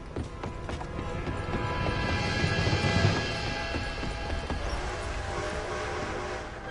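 An approaching train in Red Dead Redemption 2 builds as a steady rising rumble with clattering rhythmic knocks, swelling to a peak midway and then holding at a loud, continuous roar with no talk.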